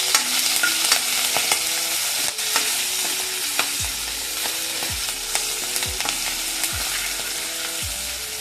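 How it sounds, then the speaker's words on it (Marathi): Oil sizzles steadily in a pan while a utensil stirs and scrapes repeatedly, a crackling fry of garlic and chilies close by with no voices. "हे चांगलं लालसर परतून घ्यायचं कालवणासारखं"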